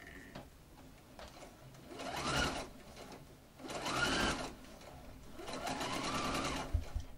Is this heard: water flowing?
no